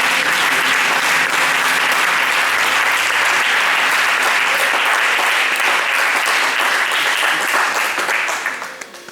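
A church congregation at a consecration seminar bursts into sustained loud applause, a dense wash of clapping that holds steady and fades only at the very end, with no talk over it.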